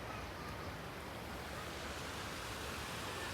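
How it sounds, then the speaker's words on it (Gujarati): Water rushes through a street drain during rain in Surat, a constant, even wash, fairly faint and unbroken, with no talking. "ગટેરનું બધું પાણી આમાંથી જાય"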